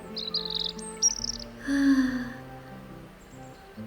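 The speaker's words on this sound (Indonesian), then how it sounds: "Burung-burung berkicau." Birds chirping on a bright morning, several short high tweets and a warbling call, fairly close and clear over faint background ambience.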